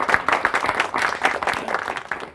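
A hall audience applauds at a Tamil debate forum, with dense, loud clapping sustained throughout and only a faint murmur of voices underneath.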